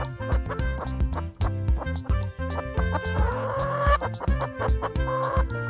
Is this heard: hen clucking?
yes